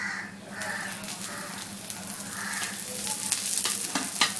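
Browned onions sizzle in a pan after a little oil is added, a steady close fry with occasional light clinks of a stirring utensil and no speech.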